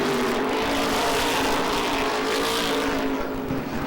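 Race cars at Lee USA Speedway roar steadily around the oval during an Oktoberfest event, engines droning loud and continuous with a pack sound throughout.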